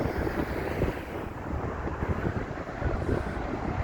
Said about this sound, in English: God, that's gone windy now.